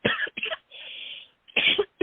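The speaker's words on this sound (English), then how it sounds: "there's a tickle in my throat. It was a cough" A few sharp coughs close by, in quick bursts with a brief rasping throat sound between them.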